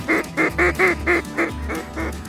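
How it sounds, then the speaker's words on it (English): Ducks in a New Orleans, Louisiana marsh during a hunt give eight loud, evenly spaced quacks close by, each note nasal and clipped, fading slightly toward the end. "We've seen a few ducks mill around"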